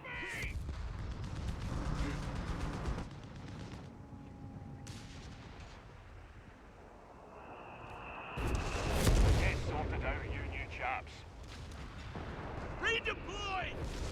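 Anti-tank gun fire in the Company of Heroes 3 war game, with booming artillery-like shots and a loud blast near the middle amid battle noise, under a commentator's talk.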